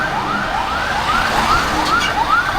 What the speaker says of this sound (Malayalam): ബാക്കിൽ ആംബുലൻസ് പോകുന്നു.